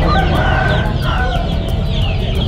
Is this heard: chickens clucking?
yes